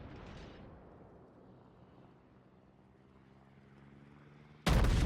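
A battleship's main guns firing in World of Warships aboard the North Carolina: a deep, rumbling boom that fades slowly into low ship noise, followed near the end by a sudden loud blast.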